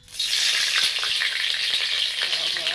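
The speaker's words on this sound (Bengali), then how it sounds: "এখন তেল লঙ্কাগুলো দিয়ে দেবো আমি" Chillies fry in hot oil in a wok, a loud, close, unbroken sizzle with scattered sharp crackles that starts abruptly and holds steady to the end.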